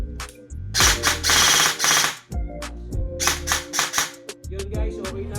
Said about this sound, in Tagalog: Tignan nga natin kung mag-auto fire.